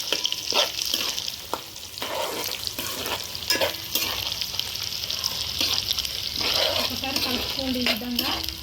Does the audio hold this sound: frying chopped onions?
yes